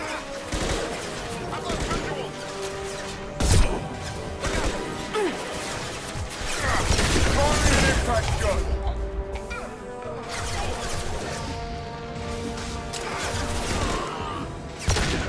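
Shotgun and pistol gunfire in a Mass Effect 2 firefight, sharp bangs and crashing impacts scattered through dense game music and effects, with one loud blast standing out near the start.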